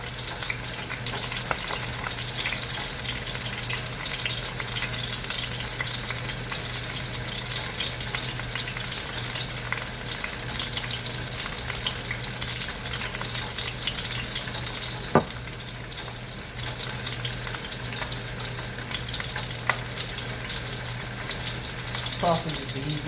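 Sausage sizzles steadily in a hot frying pan, a continuous crackling hiss close by, broken by a few sharp clicks and knocks, with no talking.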